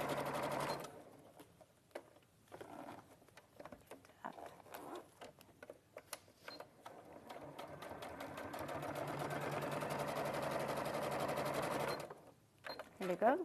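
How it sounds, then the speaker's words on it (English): A sewing machine runs a top stitch in a steady, smooth stitching rhythm that speeds into a long continuous run, close and clear, with brief pauses at the start and end and a voice talking at moments. "then give you a really nice top stitch. It's really sewing"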